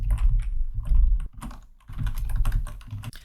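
Rapid keystrokes on a computer keyboard while code is entered, a close, dense clatter of clicks with a brief pause partway through before the typing resumes.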